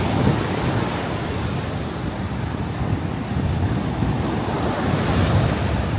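Ocean surf washes and splashes continuously at Canggu Beach in Bali, a steady roar of breaking waves mixed with buffeting wind noise on the microphone, with no voices.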